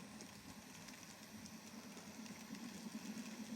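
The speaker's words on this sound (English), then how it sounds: "We'll start with a bit of train action here." Faint, steady low rumble of a model train, a C62 locomotive, running on a layout beside a river, with a soft continuous whir and no voices.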